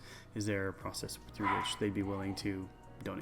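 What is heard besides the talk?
dogs barking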